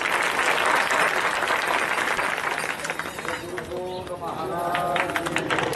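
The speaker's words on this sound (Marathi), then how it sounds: "टाळी वाजून स्वागत करा सर्वांनी" An audience at a village honouring ceremony applauds to welcome the honourees, with loud, dense clapping at the start that thins out midway, and a voice speaks over it toward the end.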